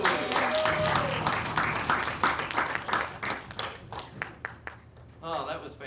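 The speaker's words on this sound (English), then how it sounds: "Applaud her as she moves." Church service audience applauding during a Fusion show, a full round of clapping that gradually thins into scattered claps, with a voice speaking toward the end.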